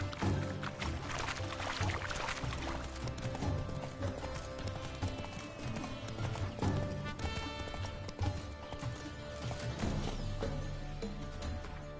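Roach, a horse in The Witcher 3, galloping with steady rhythmic clip-clop hoofbeats under a dense, loud game soundtrack, with an occasional whinny.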